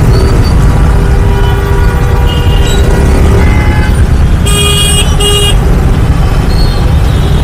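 Loud, dense street traffic in Karol Bagh, with engines rumbling continuously nearby and car horns tooting in short bursts, including a couple of sharp high honks partway through, with no clear talking.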